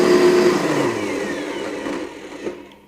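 A countertop blender whirs loudly through a thick coconut water smoothie with fruit and vegetables, its motor steady and then straining and slowing as the dense mix barely moves, fading toward the end.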